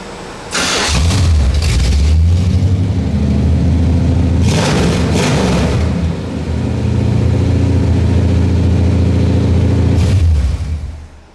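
A 1977 Chevy Malibu Classic engine catches and runs loud and close with a deep, rumbling idle. It revs up briefly twice before shutting off at the end, with no talking over it.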